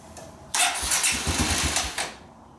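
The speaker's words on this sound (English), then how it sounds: "it'll probably take a couple cranks and then fire up, hopefully" A dirt bike engine cranks with a quick rhythmic churning, then briefly catches and sputters loudly before dying away, close up and alone.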